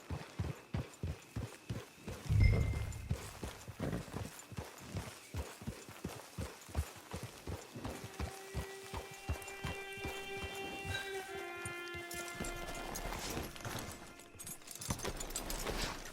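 Horse hooves clip-clop in steady rhythm throughout in Red Dead Redemption 2, with a brief thump and sustained musical tones joining midway as characters talk.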